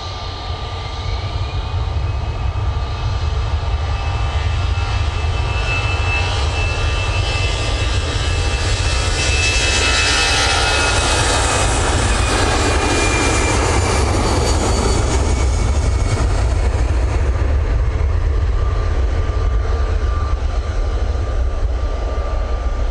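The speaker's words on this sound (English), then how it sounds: "Very nice Aer Lingus A320 departure back to Dublin" An Aer Lingus Airbus A320 departs Manchester Airport bound for Dublin, its jet engines a loud, sustained roar that swells toward the middle and holds steady, a high whine threading through the broad rumble.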